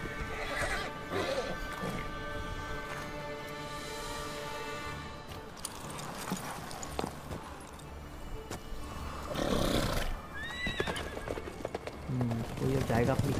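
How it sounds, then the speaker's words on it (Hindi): A galloping horse in The Witcher 3 pounds along with clip-clop hoofbeats and a loud whinny, mixed with game clatter and other effects while people talk over it. "वो कैसे भगा रहा है भाई घोड़ा इतनी तेज इतनी देर तक?"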